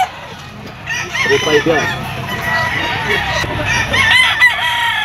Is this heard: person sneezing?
no